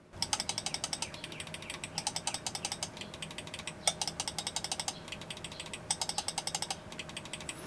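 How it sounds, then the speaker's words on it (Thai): Rapid, sharp computer mouse-button clicks repeat in quick bursts, crisp and close, with short pauses between runs; a budget gaming mouse with a high, loud click. "เสียงต่างกันเล็กๆนะครับแต่ เป็นเมาส์ที่คลิกได้ไวทั้งคู่นะครับ"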